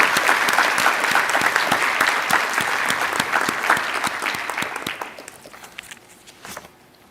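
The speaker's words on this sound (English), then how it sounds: "we ask that everyone give them a round of applause" A graduation ceremony audience claps in a loud, dense burst of applause that thins out over several seconds into scattered individual claps before fading.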